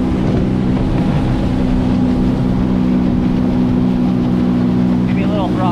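A stick-steering motorboat engine runs steadily under throttle on open water, a loud, close, continuous drone from start to finish, with voices talking over it.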